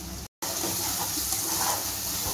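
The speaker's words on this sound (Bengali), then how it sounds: "নাহলে একটু আমি জল দিয়ে দিলাম" Water pours steadily into a cooking pan holding chopped tomatoes and cumin powder for a green jackfruit and prawn curry, a continuous gush broken by one brief pause.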